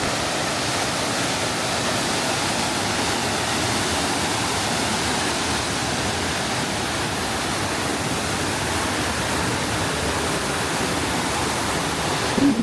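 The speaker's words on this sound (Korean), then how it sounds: "저 거친 물살이 깊은 소를 만든 것 같습니다. 물소리가 우렁차네요." Rough rushing water of a valley stream beside a steel footbridge, pouring into a deep pool, roars as a loud, steady, dense wash that continues unbroken throughout with no voices.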